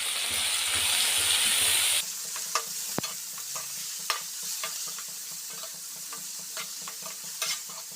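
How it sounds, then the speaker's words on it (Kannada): Coriander and mint leaves dropped into a hot pan and frying, a loud hiss at first that settles into a softer steady sizzle with scattered crackles and a few clinks of a stirring spoon. "ಇದಕ್ಕೆ ಕೊತ್ತಂಬರಿ, ಪುದೀನ ಹಾಕ್ಕೊಂಡು ಫ್ರೈ ಮಾಡ್ಕೊಳ್ಳೋಣ"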